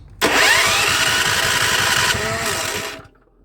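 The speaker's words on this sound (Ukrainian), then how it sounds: "заводимо генератор. Пробуємо." A petrol generator, left unused for about a year, cranks and starts in freezing frost, firing into a loud, steady mechanical run for nearly three seconds before cutting off abruptly.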